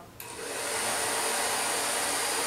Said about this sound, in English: So, I'm going to blow dry her out.